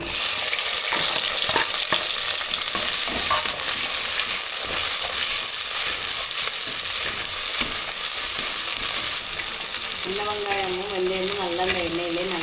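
Small onions and fenugreek seeds sautéing in hot oil for a village fish curry, a dense loud sizzle with stirring scrapes throughout, and a brief voice near the end.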